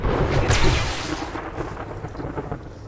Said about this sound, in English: Oh, crap. It's a storm.